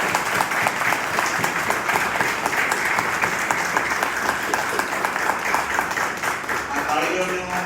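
An audience at a youth members' gathering in Mahesana bursts into sustained, dense applause, many hands clapping together at a steady level, with a voice speaking over it near the end.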